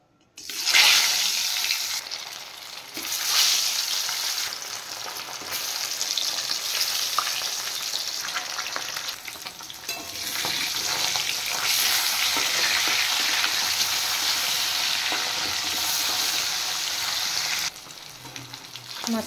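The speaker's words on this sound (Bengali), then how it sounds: "এবার মাছগুলো আমি ফ্রাই করে নেব।" Pieces of katla fish, rubbed with turmeric and salt, frying in hot oil in a pan, a steady loud sizzle and crackle running throughout with occasional stirring and no talk.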